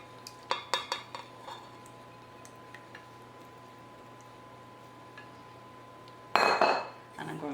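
Wet ingredients are mixed into almond flour muffin batter with raspberries and chocolate chips, heard as a few light utensil clinks against a bowl, then a quiet stretch, and finally a louder burst of stirring and scraping close by.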